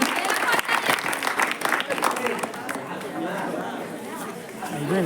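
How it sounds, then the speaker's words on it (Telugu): Audience at a semi-Christmas celebration applauding the cook, a burst of clapping mixed with busy crowd chatter and a voice speaking over it, tapering off toward the end. "మన వంటలు చేసిన రాజు అంకుల్కి గట్టిగా చప్పట్లు కొట్టి అభినందనలు తెలియజేద్దాం"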